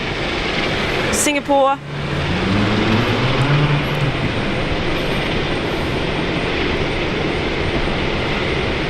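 A Qantas Airbus A330-200 lands at Brisbane Airport, its engines a broad, steady roar that fills the scene while a person speaks briefly near the start.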